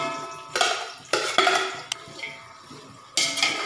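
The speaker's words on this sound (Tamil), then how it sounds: "வெங்காயம் பொன்னிறமாக ஆகிறது வரைக்கும் நம்ம நல்லா வதக்கிக்கிடலாம்" Quarter kilo of onions sautéing in a pan with bay leaf and cardamom for chicken biryani, heard as several loud metal clanks and scrapes of a spoon against the pan, spaced apart, over a faint background sizzle.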